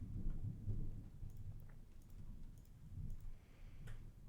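Steady rain patters in the background with low rumbling thunder, and a few soft ticks and taps scattered throughout, in the video game Truberbrook; no voices.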